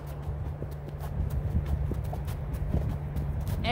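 Horses walking a trail toward Foster Falls in New River State Park, hooves clip-clopping in a steady irregular rhythm, close and moderately loud over a low constant hum.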